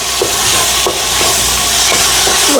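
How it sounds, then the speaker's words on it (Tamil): Shrimp sautéing in a pan for shrimp biryani give a loud, continuous sizzle and hiss close by, with occasional soft stirring knocks. "இறால் எல்லாம் வதங்கி கொண்டு இருக்குது."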